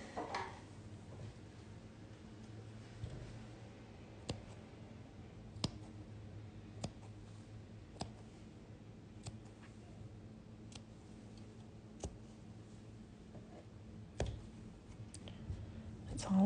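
Small scissors snipping embroidery threads on a stitched wreath piece, giving a series of sharp, quiet, close clicks spaced irregularly over a faint background hum, with no talking.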